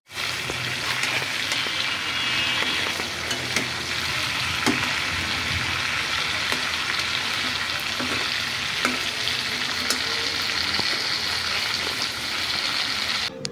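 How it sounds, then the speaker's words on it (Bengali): Chicken pieces fry in hot oil in a wok for a chicken roast, a steady close sizzle and crackle running throughout with occasional sharp spatters and stirring knocks, and no talking. "মুরগির মাংসগুলো আমি হালকা একটু ভেজে নিয়েছি।"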